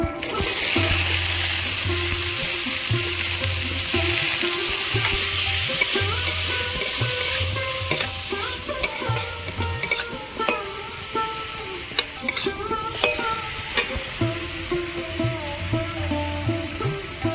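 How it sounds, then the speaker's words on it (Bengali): Carrot, onion, cabbage and beans hit a wok for a chicken momo recipe, bursting into a loud steady sizzle that softens as repeated spatula stirs and scrapes clatter on, no talking. "এবার এই থালার মধ্যে আছে গাজর পেঁয়াজকালি বাঁধাকপি আর বিন কড়াই সব দিয়ে দেবো"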